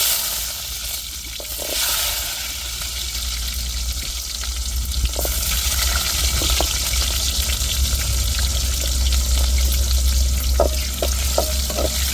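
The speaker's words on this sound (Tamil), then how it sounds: "இப்போ வந்து வெந்தயம் கடுகு சேர்த்துக்கிறோம்" Fenugreek and mustard seeds fry in hot oil for a tamarind-garlic kuzhambu, giving a steady close sizzle with scattered sharp pops and crackles throughout.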